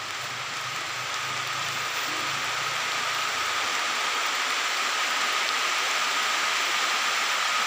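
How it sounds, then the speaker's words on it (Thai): Dense, steady rain falling in a forest, hissing evenly throughout, a constant wash of falling water with no talking. "เสียงฝนจ้ะ"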